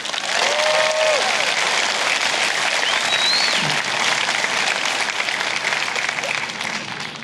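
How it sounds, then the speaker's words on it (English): Sustained applause fills a high school graduation ceremony for the class of 2026, a dense, steady wash of many hands clapping throughout, with a few faint voices and a brief whistle mixed in. "Let's give them another round of applause."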